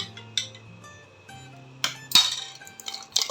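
A spoon clinking against a glass while a fennel mint lemonade with sabja seeds is stirred, a few sharp separate clinks with brief rattles in between, close and clear.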